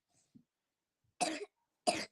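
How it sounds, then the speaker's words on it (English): Two short, sharp coughs about half a second apart, fairly close and clear, with near silence around them. "So you're going to hear her coughing now and then."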